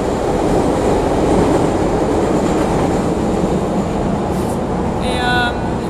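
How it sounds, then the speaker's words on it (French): Metro subway train running steadily and loudly throughout, a dense continuous rumble of wheels and carriage noise close by, with a brief squeal near the end. "C'est le métro."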